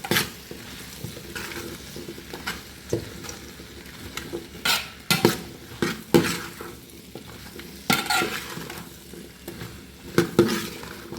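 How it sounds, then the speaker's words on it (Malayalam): Ground coconut being sautéed in a pan for parippu curry sizzles softly while a utensil scrapes and knocks against the pan in repeated close strokes, with no talking. "ഒരു ചുവന്ന പരുവാകട്ടെ, അതുവരെ ഞാനിത് വഴറ്റും."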